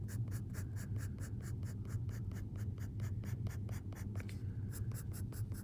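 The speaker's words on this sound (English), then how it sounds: "I'm gonna switch over to my 4B pencil." A soft 4B graphite pencil scratches textured marks onto paper in steady, rapid back-and-forth strokes, close and continuous, with a brief pause near the end before the strokes resume.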